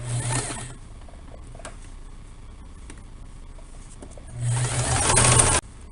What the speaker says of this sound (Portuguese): Então, eu vou costurando bem nesse vinco aqui, ó.